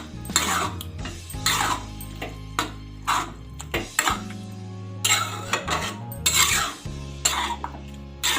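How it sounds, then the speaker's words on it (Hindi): Pav bhaji is stirred and mixed in a pan with a metal spoon, giving repeated scraping and clinking strokes in an uneven rhythm, close and fairly loud. "अच्छे से इसको मिक्स करते हैं।"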